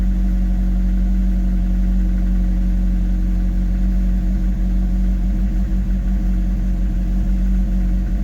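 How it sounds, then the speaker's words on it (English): A Rover 25 GTI engine idling high and rough with a suspected faulty throttle position sensor, a loud, close, constant mechanical drone with an uneven, lumpy rumble and no talk. "Now the revs are sitting high like this, which I'm guessing means throttle positioning sensor is gone."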